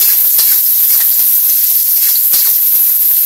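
Garlic and onion hit hot oil in a pan, giving a loud, dense, continuous sizzling hiss that fills the whole moment with no talk over it.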